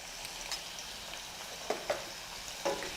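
Onions sautéing in a pan for pepper butter chicken give a quiet, steady sizzle, with a few sharp clicks and scrapes as a utensil stirs them.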